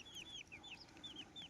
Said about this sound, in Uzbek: Xo'roz ana ular.